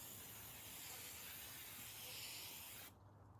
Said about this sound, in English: Okay, so we taking this spray paint,